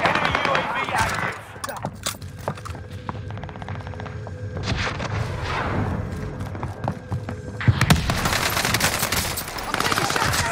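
Rapid gunfire and booms in a Call of Duty Warzone match at Fortune's Keep come in dense, steady bursts, and a player talks over the action.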